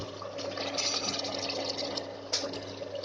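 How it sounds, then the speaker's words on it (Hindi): Water, about 50 millilitres, poured from a bowl into frying masala while cooking Old Delhi style kofte, a short close splashing pour with a sizzle and a brief second splash near the end. "ये हम 50 मिलीलीटर इसमें पानी डाल देते हैं"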